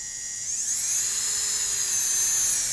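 A Nakanishi Emax EVOlution micro-grinder spins up and holds a thin, high-pitched whine near 10,000 RPM, steady and close, with no other sound around it.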